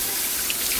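Dried seafood for Banh Canh Cua crab noodle soup is rinsed under running tap water, a brief, steady hiss of flowing water close by.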